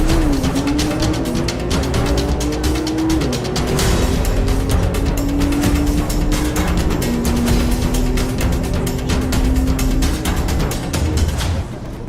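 A yellow Porsche drag racing car accelerates hard, its loud engine note climbing and dropping through several gear shifts in a continuous close roar.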